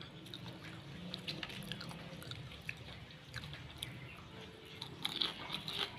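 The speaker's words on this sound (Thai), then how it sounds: "รอบนี้กรอบมาก อร่อยมาก ฟังเสียงนะคะ กรอบมากอร่อยมาก" Crispy re-fried food is crunched and chewed close to the microphone, producing quiet, steady, continuous crackling bites against a low background.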